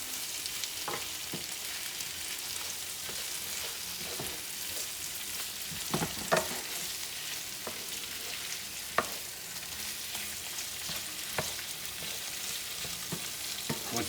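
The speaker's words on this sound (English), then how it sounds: "let's stir that around. Get that tomato paste all incorporated nicely." A spoon stirs tomato paste through sausage and peppers in a pan. A steady sizzle runs underneath, with a few soft scrapes and knocks of the utensil against the pan.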